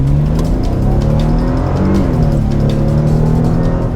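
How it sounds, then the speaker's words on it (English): A supercharged 2002 Mercedes AMG runs loud and close, its steady engine drone shifting pitch as it revs up and settles, with no voices over it. "2002 Mercedes AMG, a supercharged."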